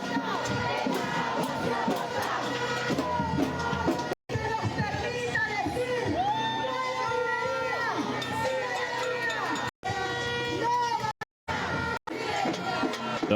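A protest crowd in El Salvador roars loudly and continuously, with dense shouting and chanting, interrupted by a few abrupt short dropouts.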